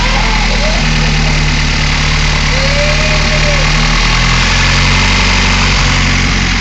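A car engine idles on its first start after cylinder head work, a steady low drone with a faint whine from the belts, close and continuous throughout.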